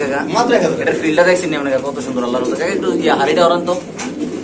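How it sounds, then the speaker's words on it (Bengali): Pigeons coo softly beneath steady nearby talking and background chatter, with the birds partly masked by voices. "কবুতর এখানে আছে"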